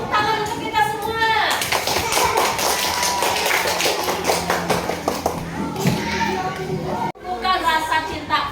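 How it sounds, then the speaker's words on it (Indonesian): Applause and clapping at a school event after a call to clap, with children's voices mixed in; a loud, dense burst of many hands runs for several seconds and then drops away sharply. "Tepuk tangan untuk kita semua."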